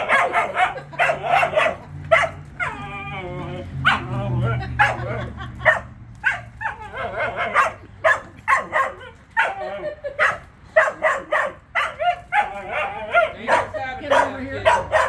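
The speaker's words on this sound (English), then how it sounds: "And she's barking at me." A dog barks repeatedly at a scooter, sharp yips and barks coming in bursts with brief whimpers, close by, while a person talks between and over them.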